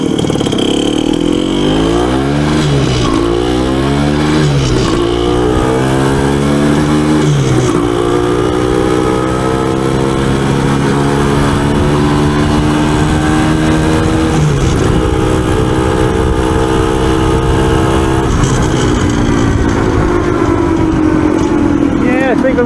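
A Yamaha MT250 motorcycle, freshly overhauled, revs up and shifts through its gears several times, each rising engine note climbing then dropping at the shift. The sound is loud and close throughout.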